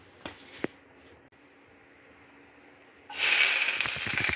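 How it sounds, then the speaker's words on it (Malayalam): Mustard seeds hit hot oil for Kerala-style inji puli with a sudden loud burst of sizzling hiss and popping crackles, close by, after a few quiet clinks and near-silence. "കടുക് ഇടാൻ പോവുകയാണ്."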